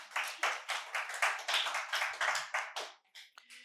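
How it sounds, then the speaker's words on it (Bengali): Audience at a quiz competition in a medical college hall claps loudly, a steady burst of many hands that rises and falls in waves, then thins out and fades near the end. "জোরে হাততালি"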